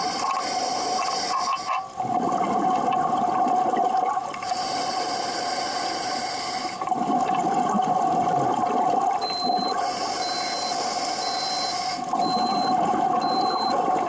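A dive computer's depth warning alarm beeps in short repeated bursts over a constant underwater hiss and bubbling breath noise.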